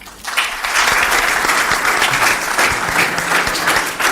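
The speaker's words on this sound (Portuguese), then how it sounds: "E um aplauso de pé" A large crowd applauds loudly and steadily, sustained clapping filling the room without pause for several seconds.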